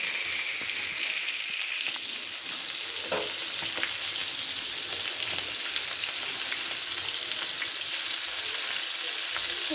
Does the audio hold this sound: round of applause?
no